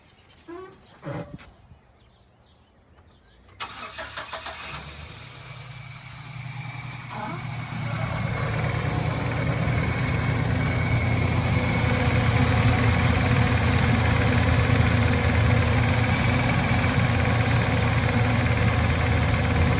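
A car engine cranks and catches, then settles into a steady, loud idle with a continuous ticking from lifter noise running under the drone throughout.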